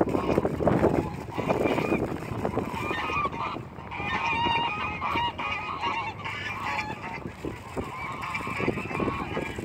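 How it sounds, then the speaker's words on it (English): A flock of geese honks loudly and continuously as it approaches outdoors, many overlapping calls with some wind buffeting the microphone. "The march of the geese."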